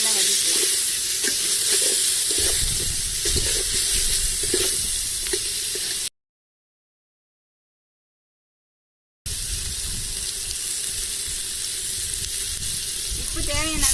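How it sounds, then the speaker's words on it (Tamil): Tomato rice ingredients with coriander leaves are stirred and sautéed in a pan over a stove on a rooftop, giving a steady close sizzle with scraping strokes, broken by a few seconds of total silence. "நல்லா சேர்த்து நல்லா வதக்கலாம்."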